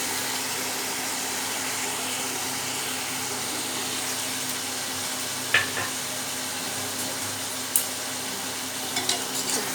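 Squeezed soya chunks sizzle steadily in a hot pan as they fry, with a constant broadband hiss and a few sharp stirring clicks near the end.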